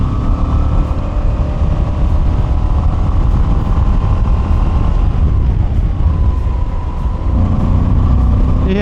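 A Moto Guzzi motorcycle, an older-styled bike, being ridden, with a steady, loud engine drone and wind rumble that runs throughout and shifts pitch slightly near the end, with no talk.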